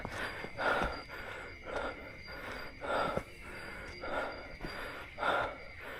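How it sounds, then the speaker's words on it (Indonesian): Heavy, out-of-breath panting on a bamboo-lined trail on Mount Salak, about five loud rasping breaths in a steady rhythm, close to the microphone with no speech. "Ngos-ngosan."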